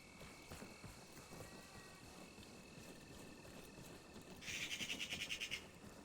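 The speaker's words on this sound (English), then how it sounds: "The owl's really nice too" Owl hooting in Arma Reforger, a rapid pulsing run of calls over a steady ambient background, moderately loud and alone.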